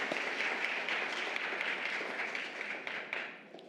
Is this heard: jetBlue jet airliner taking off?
no